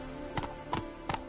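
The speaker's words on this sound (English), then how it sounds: "Spooking my horse." A horse's hooves clip-clop in three evenly spaced, fairly crisp strikes, moderately close, over a steady low background.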